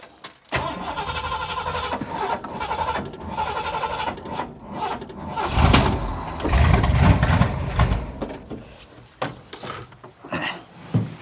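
A 1967 Ford F250 4x4 with a freshly swapped engine cranks, sputters as if flooded, then catches and runs roughly, revving unevenly before settling toward an idle, loud and close with no talk.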